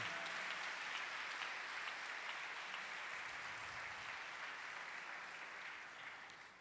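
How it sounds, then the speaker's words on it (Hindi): A church congregation at a live prayer service breaks into sustained applause, a dense, steady wash of many hands clapping together that holds level and tapers slightly at the end, heard alone without any voices. "हालेलुया, ग्लोरी, जोरदार तालियां खुदा बाप के जलाल के लिए।"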